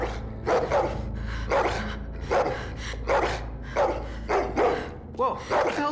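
A dog in The Walking Dead video game barking in a steady series of about a dozen sharp, fairly loud barks at an even rhythm, ending with a short yelping whine.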